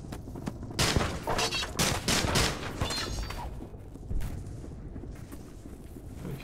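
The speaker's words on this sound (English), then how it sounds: "they shot me with guns" Dense bursts of gunfire crackle through a fight in the video game The Eternal Castle Remastered, loud and close, with rapid overlapping shots that ease into a rumbling tail.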